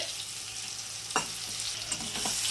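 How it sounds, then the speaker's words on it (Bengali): Steady sizzle of pointed gourd frying in hot oil, with a few soft stirring scrapes breaking through the constant crackle. "পটলগুলো ভাজা হয়ে গিয়েছে"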